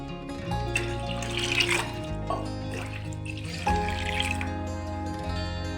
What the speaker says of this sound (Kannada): ನಾನು ಈ ತಂಬಿಗೆಯಲ್ಲಿ 3 ತಂಬಿಗೆ ನೀರು ಹಾಕ್ತಾ ಇದ್ದೇನೆ